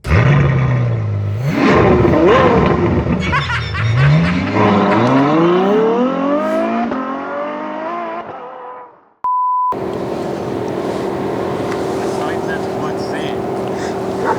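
A Mercedes-AMG GT 63 4MATIC+ Coupé engine roars loudly and revs up through rising pitch sweeps, then cuts off abruptly and gives way to steady lower cabin or road drone.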